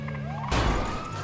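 A police siren in a video game wails in a rising sweep, then a loud broadband burst cuts in halfway and the siren carries on over the noise. No one talks.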